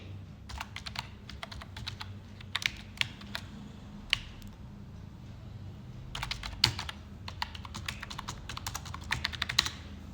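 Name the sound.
typing username and password on computer keyboard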